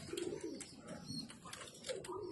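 Racing pigeons in a loft give soft, repeated throaty coos, a low burbling chorus that continues quietly without a break.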